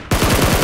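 Automatic gunfire in a PUBG match, a rapid burst of about seven evenly spaced loud shots ringing out close by with no pause between them.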